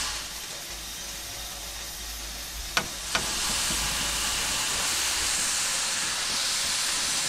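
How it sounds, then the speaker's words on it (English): Safety valve blowing off on a Terrier steam locomotive on the Isle of Wight Steam Railway in Train Simulator Classic, a steady broad hiss of escaping steam with two sharp clanks partway through, after which the hiss grows stronger. "Bit noisy with the safety valve going off"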